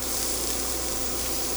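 Garlic sizzles in warm oil in a pan while Latin-style beans are being made, a constant loud hiss of frying that runs evenly throughout without talk.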